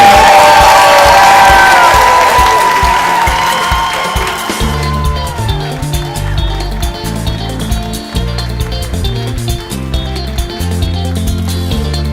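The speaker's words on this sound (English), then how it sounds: "Everyone, please give a warm round of applause for Brenda." A dinner crowd at a children's book awards event cheers and shouts loudly, and music with a steady beat joins partway through and carries on under the crowd.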